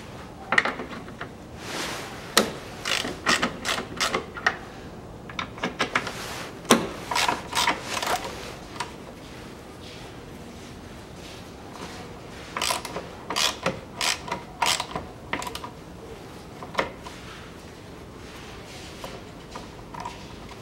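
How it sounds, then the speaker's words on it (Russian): A ratchet with a 10 mm socket loosens M6 nuts on a BMW X3 xDrive 20d F25 tail light, giving bursts of quick close clicking between pauses, with occasional knocks of parts being handled. "Откручиваю две гайки М6,"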